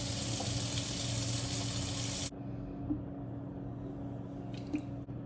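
Wet yarn handled in water before dyeing: a loud steady hiss of running water cuts off abruptly, followed by quiet squishes and soft drips close by.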